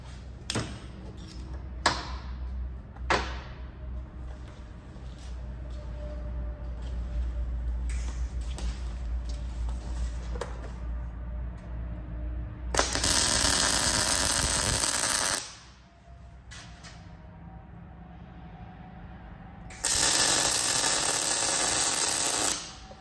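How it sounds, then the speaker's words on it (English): An arc welder lays beads joining a tube insert on fabricated front links for an Ultra4 4Runner, with bursts of loud crackling hiss lasting a few seconds each, separated by quieter shop noise and scattered clanks. "let's fire up the welder, do that"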